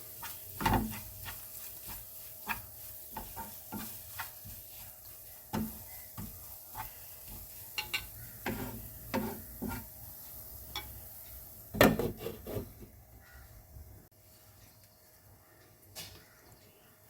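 Stuffed squid being stirred in a covered pan, with scattered wooden scrapes and knocks over a faint steady sizzle, quiet and close.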